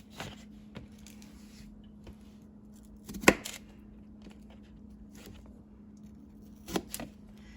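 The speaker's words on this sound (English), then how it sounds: "I'm going to cut each potato and" A knife cutting potatoes into cubes on a cutting board, sparse quiet chops with a couple of sharper knocks against the board, spaced irregularly over a low background hum.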